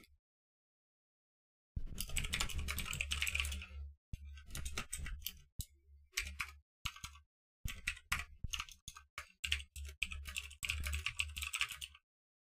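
Bursts of rapid clicking keystrokes on a computer keyboard, typed in uneven spurts separated by short pauses, close and clear with no talking.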